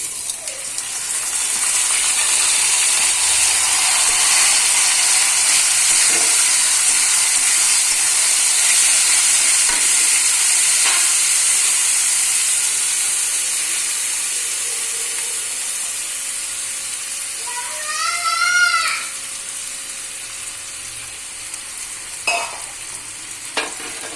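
Rice fried in a pan for Basanti pulao hisses in a loud, continuous broadband sizzle, with the occasional scrape of stirring and a soft clink near the end as it settles and fades slightly.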